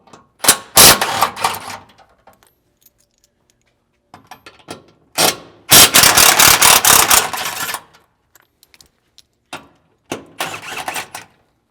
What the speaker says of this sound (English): get a 21mm socket, and we're going to pull down 2 bolts per side on each frame rail from underneath